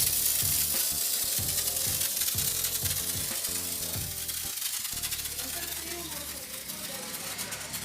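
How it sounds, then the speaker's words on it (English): Hand pump on an iK Foam 1.5 foam sprayer being worked in a steady series of ratcheting strokes, loaded with thick Meguiar's NXT Car Wash, the rhythmic mechanical pumping close and clear before fading into a softer hiss. "So I do another shot, 15 times pump."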